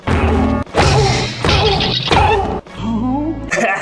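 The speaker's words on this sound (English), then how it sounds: "Just add a cartoon sound effect to make it complete." Loud, crashing cartoon-style smash effects pile onto a clock being smashed, several heavy impacts in quick succession with voices mixed in.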